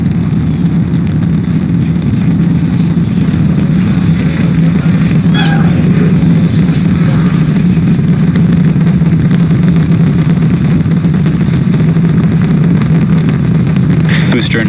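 SpaceX Starship booster's Raptor engines during the sixth flight test launch, a loud, continuous low roar that rumbles steadily and unbroken from start to finish.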